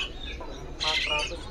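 Murai medan (white-rumped shama) songbirds at a bird-selling kiosk give a brief burst of bright, warbling chirps against low background murmur and noise.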